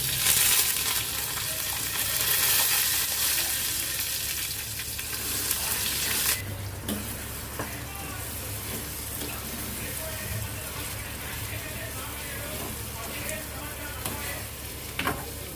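Coconut chutney tipped into a sizzling tempering of small onions and red chillies, a loud hiss at first that settles into steady frying with occasional stirring scrapes; speech may be faintly present.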